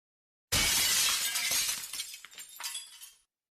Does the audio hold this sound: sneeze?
no